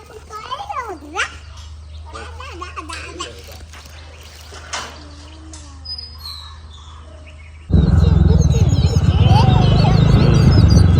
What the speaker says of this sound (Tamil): குருவி சத்தம் சூப்பராக இருந்துச்சு.